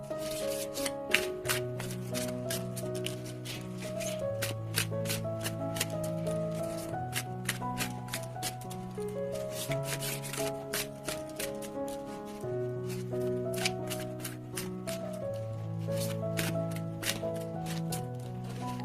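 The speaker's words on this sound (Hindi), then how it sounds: "तो शुरुआत करते हैं हम शफल करके।" Tarot cards being shuffled by hand, heard alone as a long run of quick, crisp riffling flicks with a soft melodic backing tune steady beneath.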